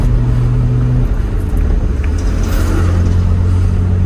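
A 1969 Mercedes 280SL Pagoda cruises along with a steady, close engine drone and road rumble, its low tone shifting as it changes pitch partway through, with no voices.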